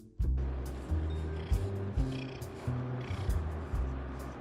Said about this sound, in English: Oh, listen to him purr.